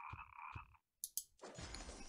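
A frog croaks in a Harry Potter video game: two clear, close croaks, then a pause, a pair of sharp clicks, and a burst of hissing game sound.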